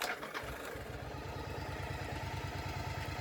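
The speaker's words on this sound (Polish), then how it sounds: "Silniczek chodzi cichutko, Posiada on oryginalny wydech." A 1992 Yamaha Virago XV 750 motorcycle with its original exhaust idles quietly and steadily, a close, even low-pitched pulse running without a break and with no talking.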